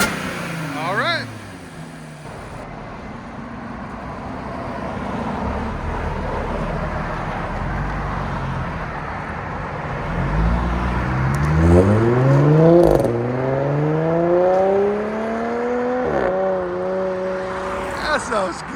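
A 2013 Audi S4 with a 3.0-litre supercharged V6, AWE cat-back exhaust and Vibrant resonators, idling with a steady rumble before revving up in rising pulls that climb and fall, with people talking nearby.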